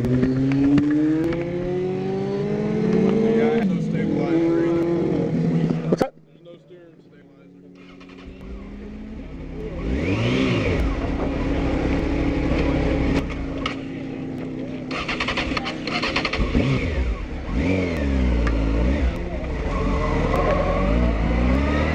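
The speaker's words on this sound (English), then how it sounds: "this is a Honda CB919" Honda CB919 motorcycle at an outdoor stunt riding session, engine revving and rising and falling in pitch, loud and close, with a brief dip partway through and voices talking over it.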